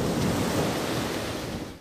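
Distant sea waves at night form a steady, unbroken roar with no distinct breaking surges. The wash is fairly soft and even, like surf heard from a dark street some way off.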